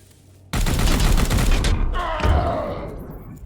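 Gunfire from the video game Chaos Gate: Daemonhunters erupts abruptly as a loud, rapid burst of shots, trailing into a lower rumbling boom and a fading tail, with no talk over it.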